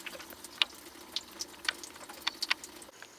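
Water trickling and dripping as it drains from the 5.7-liter EFI engine block of a Crownline 202 boat during winterization, heard as scattered close drips and small splashes over a quiet background.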